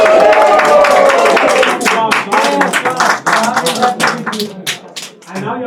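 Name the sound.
audience applause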